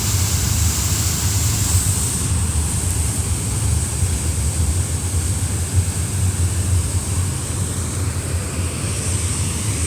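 Water plunging down a rocky waterfall makes a continuous, dense roar, heard up close near the top of the falls; the hiss stays loud and even throughout, with no one speaking.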